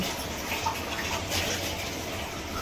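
Rinse water pours steadily into a fish curry (meen kuzhambu) in a cooking pot, a continuous liquid wash heard up close and alone.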